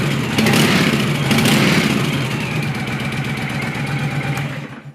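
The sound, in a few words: 2009 Honda VTX1300T motorcycle engine idling without choke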